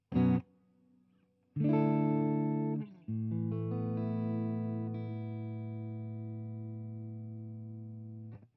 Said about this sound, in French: On va mettre juste un tout petit peu de reverb.